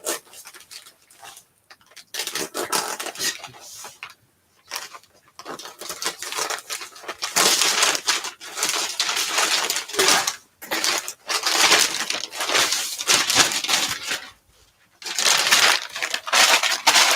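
Scissors snipping through fleece fabric for a tote bag, a run of crisp, close cutting and rustling bursts separated by short pauses.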